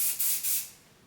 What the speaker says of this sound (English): Now what I'm doing is I'm taking this Play Dirty spray